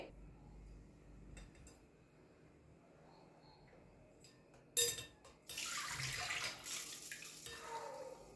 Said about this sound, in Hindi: तब हम चावल को स्ट्रेन आउट करके इसका पानी को निकाल देंगे।